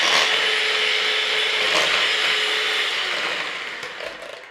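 Electric mixer whirring steadily as it blends sponge cake batter with a pinch of salt, a loud close motor drone that holds level and then tapers slightly toward the end.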